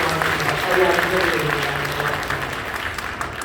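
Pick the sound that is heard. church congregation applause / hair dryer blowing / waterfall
church congregation applause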